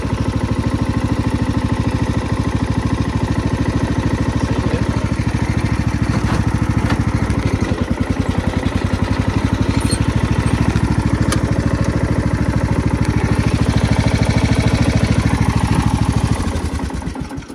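An old lawnmower engine runs steadily and loud, a rough mid-pitched chugging drone that holds for most of the stretch before cutting off near the end.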